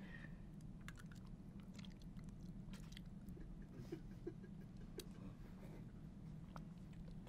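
Close, steady chewing and biting on a spoonful of an odd homemade ramen concoction, soft squishy mouth sounds with occasional crisper clicks running throughout, no talking.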